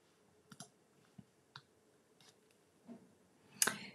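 A paper corner punch rounding card corners gives a handful of soft, separate clicks in a quiet room, spaced irregularly, with a sharper, louder snap near the end.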